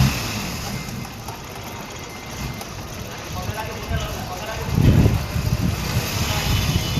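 A CNG-converted car engine idles under repair, then revs up briefly around the middle, a steady close mechanical drone that swells and settles, with people talking over it.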